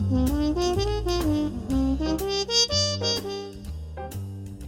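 Running single notes in even eighth notes outline a minor two-five-one over low bass tones, played clearly and steadily without any voices.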